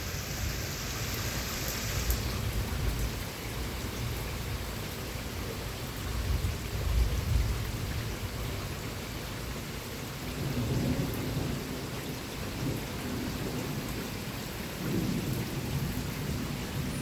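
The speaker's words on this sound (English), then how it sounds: "it's just a storm" Steady heavy rain pours during a severe thunderstorm with damaging winds in southeastern Pennsylvania, with several low rolling thunder rumbles swelling and fading over the constant hiss.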